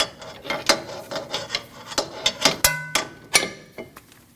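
A wrench ratchets in quick repeated clicks while torquing the rear axle nut on a 2003-2008 Subaru Forester, close and sharp, with a few louder metallic snaps near the end.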